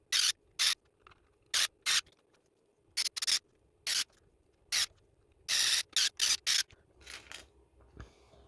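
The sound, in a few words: screws being driven into RC 1/24 off-road trailer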